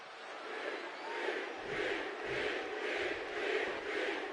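Video game arena crowd for a WWE 2K25 wrestling match, a steady loud roar of cheering fans that swells rhythmically in repeated chant-like surges, with no one talking.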